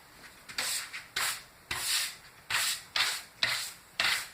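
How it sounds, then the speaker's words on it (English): Dry wiping strokes across a piece of wood to clear off dust, about seven brisk rubbing swipes in a steady rhythm, close and fairly quiet with short pauses between them. "I just got to wipe the dust off."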